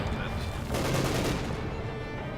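MG42 machine gun fire in the video game Company of Heroes 2, dense rattling bursts mixed with other battle noise under a caster's commentary.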